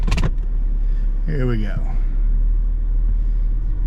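A car engine runs with a steady low rumble inside the vehicle, a sharp click near the start, while a person speaks briefly over the hum.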